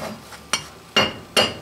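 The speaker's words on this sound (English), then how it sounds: "I'll start by breaking off the core." Three sharp metallic knocks, spaced about half a second apart, close and crisp with a brief ringing tail, preceded by a softer tap, as a drilled core is broken off while making a lathe collet drawbar.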